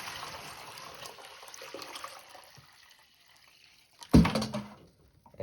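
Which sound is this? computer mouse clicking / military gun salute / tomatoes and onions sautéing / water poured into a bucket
water poured into a bucket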